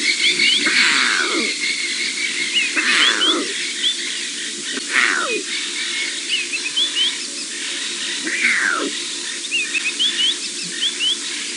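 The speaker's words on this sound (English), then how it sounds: "Tiny roaring lion in the making." A young lion cub on safari lets out several short, strained roars spaced a couple of seconds apart, with birds chirping and whistling steadily in the background of open bush.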